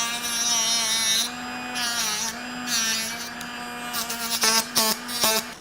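A rotary polisher finishes a Dentsply Essix aligner with a steady high motor whine that dips and rises in pitch as it bears on the plastic, then stutters in short bursts near the end, close and clear.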